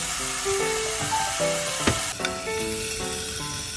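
Mushrooms and seasoning sizzle steadily in a pan while being stir-fried for Korean mushroom bokkeum, a loud continuous frying hiss with occasional utensil scrapes and clinks throughout.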